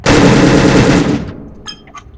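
A semi-auto gun modified to fire full auto in the game People Playground, a loud rapid burst of gunfire lasting about a second, then a short fading tail with faint clicks.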